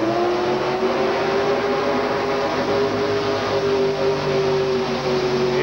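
A Mud Stud pulling tractor with a big Ford motor launches at a 1987 USHRA event in Minneapolis, its engine a loud, sustained droning roar with a slowly shifting pitch that holds steady for several seconds, no speech.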